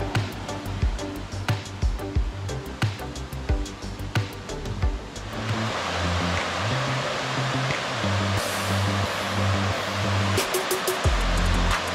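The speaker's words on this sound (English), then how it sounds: "so this is the main falls it looks like" Panther Creek Falls in Georgia, the main falls, pours as a steady roar of rushing water that grows fuller partway through, with scattered clicks and rustles up close.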